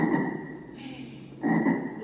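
A voice imitates a frog with two short, throaty croaks, separated by a brief pause, close and fairly loud.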